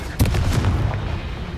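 A Confringo spell explodes in Hogwarts Legacy with a sudden blast and a few booming pops that trail into a rumbling decay.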